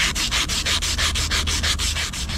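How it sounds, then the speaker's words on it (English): Steady back-and-forth sanding strokes on a metal pipe of a rooftop HVAC unit, about five per second, a rhythmic raspy scrubbing close up with no voices. "we're gonna start by sanding down this area."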